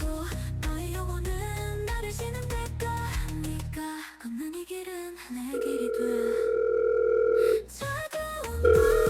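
A steady telephone dial tone sounds for about two seconds as someone places a call, following a stretch of piano-like music that plays on underneath.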